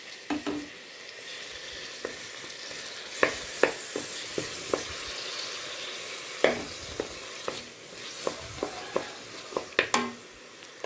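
Tomatoes with a little salt sautéing in a pan for a vegetarian liver fry, a steady soft sizzle broken by irregular sharp clinks and scrapes of a stirring spoon against the pan, close and alone without talk.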